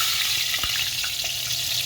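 Oil sizzles in a clay cooking pot, a continuous close hiss with a few faint clicks and pops underneath, no voices.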